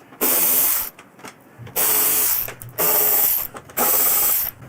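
Ratchet loosening the lower wing bolt holding a motorcycle's lower fairing: four loud, even bursts of fast clicking, each about a second long, separated by brief pauses.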